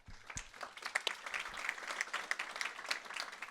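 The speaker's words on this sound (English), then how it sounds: "Big round of applause" Applause from an audience at the end of a conference talk on ClickHouse, a continuous patter of clapping at moderate distance, steady and even throughout.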